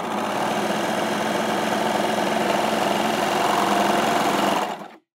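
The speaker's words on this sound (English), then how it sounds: "I'm going to go from sewing that piece of cotton jersey to sewing a piece of mid-weight denim" A Baby Lock Victory overlocker stitches through mid-weight denim, a loud, steady, rapid mechanical whir that runs evenly, then stops abruptly near the end.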